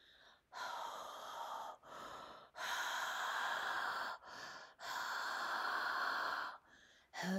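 A voice imitates a monster panting with long, heavy, breathy gasps in a slow repeating rhythm, loud and close, with brief pauses between breaths.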